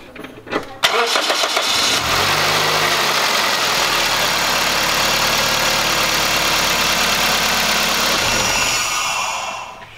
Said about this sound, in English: All right, so once you got the oil in the vehicle, go ahead and start up the car.